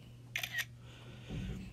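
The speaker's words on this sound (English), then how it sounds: "or you can press the shutter button." An iPad camera shutter fires while a paper document is being scanned, giving two quick, fairly quiet clicks close together, followed by a soft low rumble of handling noise.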